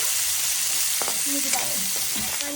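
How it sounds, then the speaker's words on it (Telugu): Onions frying in a pan for carrot potato rice give a steady, loud sizzle, broken by a few scraping stirs of a spoon. "అలాగే ఉల్లిపాయలు వేసి ఒకసారి కలుపుతున్నాను"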